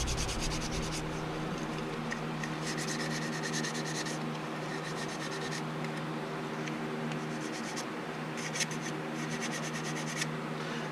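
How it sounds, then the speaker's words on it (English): A part gets a light scuff all the way around before its base coat for hydro dipping, heard as close, dry rubbing strokes in several bursts with quieter gaps and no voices. "So we're just going to give this a light scuff all the way around."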